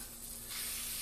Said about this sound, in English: We'll spray a little WD-40 in there